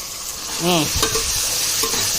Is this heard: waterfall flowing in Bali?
no